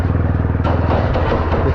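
A tractor engine chugs at a riverbed sand loading site, a loud, close, steady low throb with some clatter over it.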